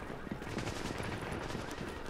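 Rapid automatic gunfire from a Tom Clancy's The Division firefight, a brief fast stream of shots rattling steadily and fairly close.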